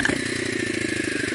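A motorcycle engine revs briefly as the clutch is popped in first gear for a small wheelie, a steady close mid-pitched drone without talk.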